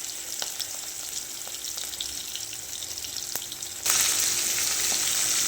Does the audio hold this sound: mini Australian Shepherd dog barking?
no